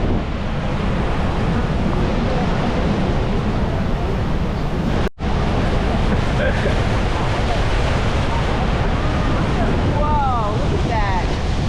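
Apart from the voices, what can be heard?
strong wind over the water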